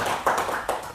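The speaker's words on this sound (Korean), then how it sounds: "한번 같이 서로를 위해서 박수하면 좋겠습니다" Congregation at a church service clapping for one another, a short burst of hand claps with a few louder peaks, moderately close and not under talk.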